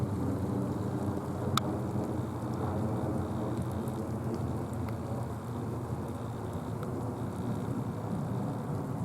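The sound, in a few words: rain falling on the camera during a storm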